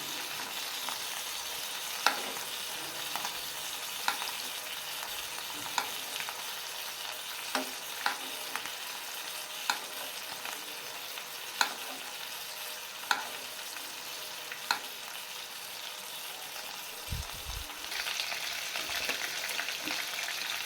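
Beef steak frying in homemade butter in a pan, a steady loud sizzle with small intermittent pops and crackles throughout.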